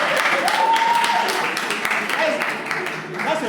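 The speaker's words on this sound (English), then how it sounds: "That's a fake applause." Classroom applause from a group of students, a steady wash of clapping that fades slightly toward the end, with voices speaking over it.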